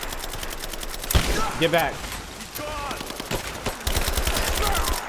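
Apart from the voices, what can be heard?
gunfire in the video game Rise of the Tomb Raider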